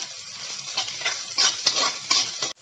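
Chopped onion, green chili and curry leaves frying and being stirred in a pan, a close crackling sizzle with scraping stir strokes, no talk.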